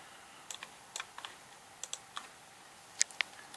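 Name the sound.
laptop keyboard, pressing Alt+Tab and Windows+Tab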